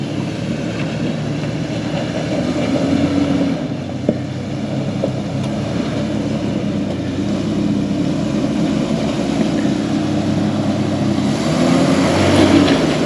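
A 4x4 grinds steadily up a hard off-road track in Victoria's High Country, its low, constant engine drone close and unbroken, with faint knocks over the terrain and no talk.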